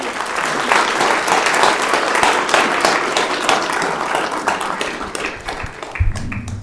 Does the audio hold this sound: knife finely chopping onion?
no